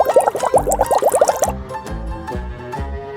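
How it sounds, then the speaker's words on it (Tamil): Milk pours into a bowl of cereal in a quick gurgling stream for a second or so, followed by a few separate drips and splashes as the pour tapers off. "சீரியல்ல பால் ஊத்த ட்ரை பண்றேன்."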